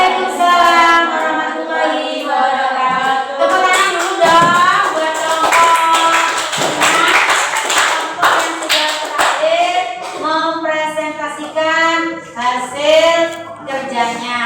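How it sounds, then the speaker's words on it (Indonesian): Classroom students clap their hands together in scattered bursts while a teacher's voice talks over them, with the clapping surging in the middle and thinning near the end. "Tepuk tangan dulu dong."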